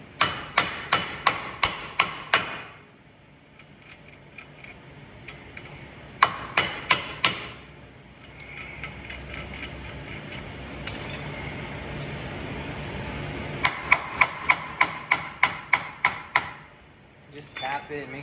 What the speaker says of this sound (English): when I'm hitting it, I don't fuck up the threads